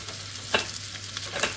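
Fried rice being broken up and stirred in a pan, with several short scraping strokes over a low, steady sizzle, close and fairly quiet.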